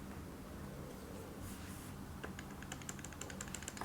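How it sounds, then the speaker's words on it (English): Express keys on a drawing tablet are pressed in a quick series of faint plastic clicks, sparse at first and then clustering into rapid taps, close by in a quiet room. "I'm changing the brush size using the express keys right now."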